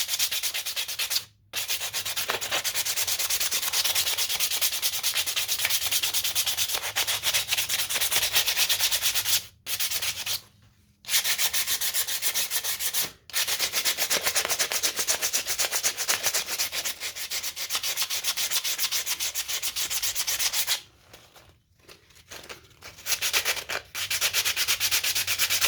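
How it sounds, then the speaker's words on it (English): Sandpaper rubbing steadily over carved cedar wood by hand, a continuous close scratchy rasp that runs almost nonstop, broken by a few short pauses. "just carry a piece of sandpaper, rough around"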